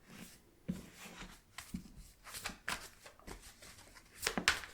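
Tarot cards are shuffled close up in quiet, irregular bursts of riffling and soft slapping, with short pauses between handfuls and no talking.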